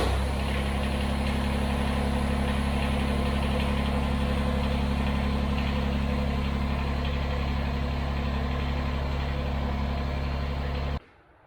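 A Kubota BX23S compact tractor engine running at a steady idle, a constant close, loud rumble that cuts off abruptly just before the end, with no talking.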